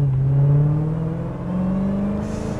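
A 2017 Dodge Challenger Hellcat's 707-horsepower engine revs and accelerates close by, a loud steady roar that rises in pitch, dips briefly, then climbs again over about two and a half seconds, with no talking.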